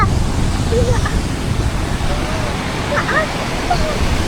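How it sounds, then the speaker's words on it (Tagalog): Strong wind at Balagbag, Real, Quezon roars steadily against the microphone, a dense rushing noise throughout with faint background sounds. "Ayan o, ganyan kalakas ang hangin."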